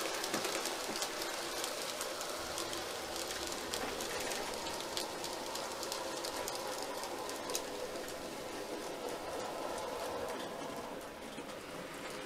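An N gauge model freight train headed by an XWD locomotive rolls past on a layout, a dense continuous rattle of tiny wheels and wagons that stays fairly loud and even throughout.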